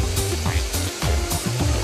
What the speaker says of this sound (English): A worker sprays a pair with about 1 kilo of sand at 4 bars of pressure.